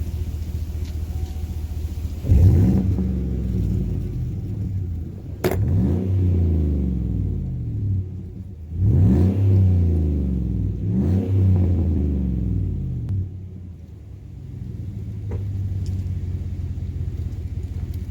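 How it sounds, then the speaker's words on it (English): Close by, a 2014–2018 GMC Sierra or Silverado pickup fitted with an MVP aftermarket exhaust is revved three times from a deep idle rumble, each throttle blip surging and falling back, with no talking. "Let me do a couple of revs."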